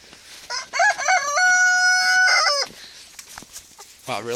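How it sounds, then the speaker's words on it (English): Chickens inside a small hut during a snowy Oregon blizzard: a loud, drawn-out rooster crow rings out close by, followed by scattered short clucks and rustling. "The chickens went back in their little hut."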